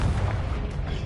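A Confringo explosion spell goes off in a Harry Potter video game, a single short, loud, low boom with a dull rumbling body, heard alone.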